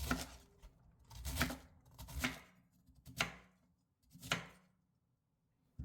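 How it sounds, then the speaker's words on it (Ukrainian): A knife chops white cabbage into fairly coarse pieces in five separate rhythmic bursts of crisp cuts on a board, close and clear with quiet pauses between them. "візьмемо 300 г білокачаної капусти та нарізаємо не дуже дрібними шматочками"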